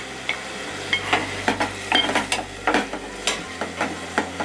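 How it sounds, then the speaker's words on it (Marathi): Onions being sautéed in a home kitchen pan for Moghlai chicken handi: a soft sizzle runs throughout, broken by repeated scraping stirs in an irregular rhythm, close and moderately loud, with a low steady hum underneath and no talk. "तर कांदा आपला चांगला परतून घेऊया."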